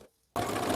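A sewing machine starts up abruptly after a brief silence to stitch a seam on a women's vest, running as a steady, close mechanical whir.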